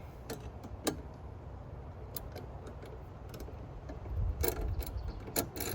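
Ratchet tightening nuts and bolts on a Chapin 8622B tow-behind turf spreader: scattered sharp clicks, then a denser run of ratcheting near the end, close but fairly quiet.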